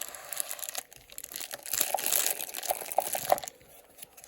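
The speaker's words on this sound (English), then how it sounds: "I don't like when they put lots of sort of paper wrapping inside it." Paper wrapping crinkles and crunches close up while an Invicta Speedway 20305 chronograph watch is unboxed, in bursts of rustling with brief pauses.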